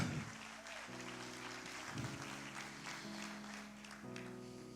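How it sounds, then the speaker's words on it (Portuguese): A church congregation claps in praise, with steady applause sounding at moderate volume beneath sustained musical tones, and no talking. "Você pode dar um aplauso ao Senhor por isso?"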